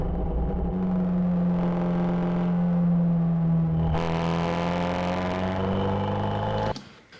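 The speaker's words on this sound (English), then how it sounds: "put a tiny bit of reverb on the exhaust" Car exhaust note with a touch of reverb, as if reflecting off a nearby rock wall: a steady, loud drone with a sustained low tone that rises slightly midway, then cuts off abruptly near the end.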